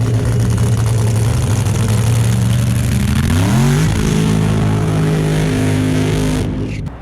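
A 1977 Corvette nostalgia funny car running on nitromethane and methanol idles loudly with a rough, crackling drone, the engine pitch dipping and wavering midway before steadying, close and continuous until it cuts at the end.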